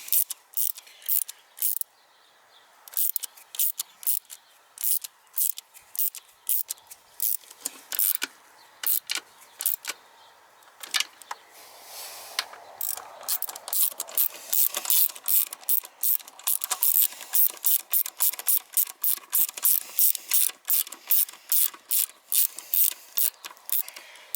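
A ratchet tightens bolts in a star pattern on a Jaguar XK 5.0 coupe. Close, crisp pawl clicking comes in rapid bursts with brief pauses, growing faster and denser toward the end, and no one speaks.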